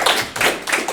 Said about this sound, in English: let's give a round of applause for the leadership here.